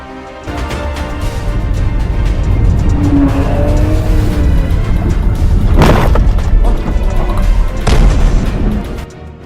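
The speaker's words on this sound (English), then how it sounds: "the entire orchestra behind simultaneously plays a symphony of metal clashing and honking" A multi-car road pile-up erupts into loud crashing metal and tire noise, with sustained roaring impacts, a couple of sharp bangs and possible horn tones over heavy traffic rumble.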